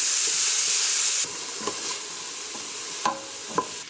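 Onions, carrots and celery sizzle in a hot pot while a utensil stirs them, giving a steady frying hiss broken by a few soft scrapes and knocks against the pot.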